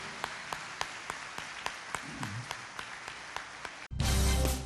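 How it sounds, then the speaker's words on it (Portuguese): A church congregation claps during a morning service. The clapping is faint, sparse and evenly paced, and the clip ends with a sudden loud burst of noise. "Quem pode, aplauda o Senhor por tudo nesta manhã."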